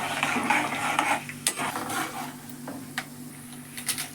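Mustard seeds with black gram and chana dal frying in oil for a tempering, a soft sizzle with light stirring and a few sharp clicks and pops from the pan, fairly close and quiet.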